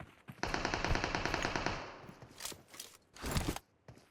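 Automatic gunfire in the mobile battle royale game PUBG Mobile, a rapid burst of shots lasting about a second and a half, then scattered single shots and a short second burst.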